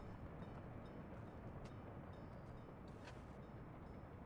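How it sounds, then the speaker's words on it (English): A chemical freight train arriving in the Workers & Resources: Soviet Republic game, a continuous low rumble and rolling roar with faint metallic clicks, steady and distant. "Our chemical train is arriving."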